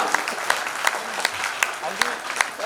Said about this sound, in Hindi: जोरदार तालियां बच्चों, भूल मत जाना।